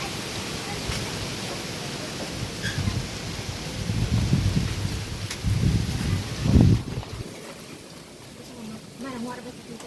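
Wind gusts rumble and rush across the mic, swelling and fading in bursts, then settling into a quieter hiss.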